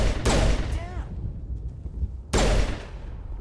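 Gunfire in the video game Mass Effect, two loud bursts of shots about two seconds apart, each with a ringing tail that decays into quieter game background.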